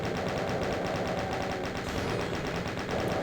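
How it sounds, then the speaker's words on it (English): Rapid, continuous chain gun fire in The Ultimate Doom, a fast steady stream of loud gunshots running the whole stretch without a break. "if you still need to use the chain gun to your advantage"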